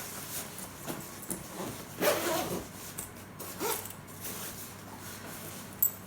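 A zipper on a small pocket of a Jujube MiniBe mini backpack rasps open in a couple of quick pulls at close range, with light handling noise around it.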